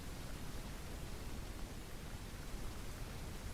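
Strong wind buffets the microphone outdoors during a duck hunt in a steady, roaring broadband rush with small gusty surges and no other clear sounds.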